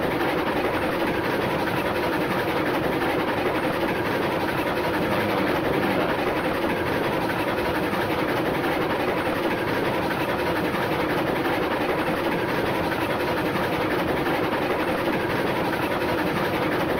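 A video game train locomotive runs at full speed, a steady, dense rumble and rattle of wheels and engine that holds at a constant loud level throughout, with no voices.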